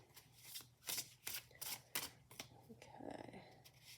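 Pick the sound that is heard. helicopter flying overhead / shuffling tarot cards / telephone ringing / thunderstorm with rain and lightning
shuffling tarot cards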